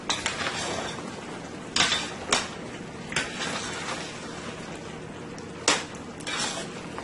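Pieces of beef for a homemade stew tossed in a pot, making a series of sharp metallic clanks and scrapes spaced a second or so apart over a steady background hiss of frying.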